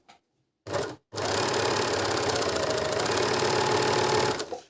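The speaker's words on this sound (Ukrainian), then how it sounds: "як працює оверлок, наприклад, ось джаном" A Janome overlock sewing machine starts with a short burst, pauses, then runs at a steady fast whir with rapid mechanical chatter, loud and close, until it stops.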